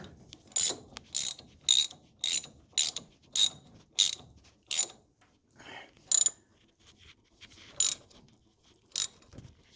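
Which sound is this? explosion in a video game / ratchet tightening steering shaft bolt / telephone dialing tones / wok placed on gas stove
ratchet tightening steering shaft bolt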